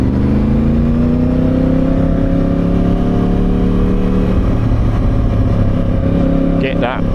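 A Yamaha R1 motorcycle engine hums steadily while riding through London streets, its pitch slowly rising and falling with throttle under constant wind rush, and a rider talks over it.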